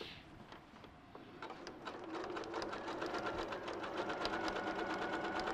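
Sewing machine stitching a feather-stitch zigzag on a quilt, its fast even whirring close and continuous, growing slightly louder midway and running alone without talk.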